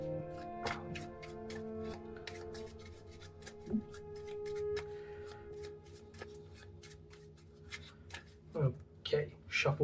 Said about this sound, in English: So let's just give this deck a quick shuffle.